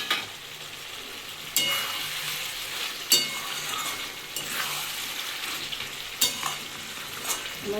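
Chicken curry fries in oil as potatoes go in and are stirred, a continuous sizzle broken by a few sharp scraping strokes against the pot, heard up close without speech.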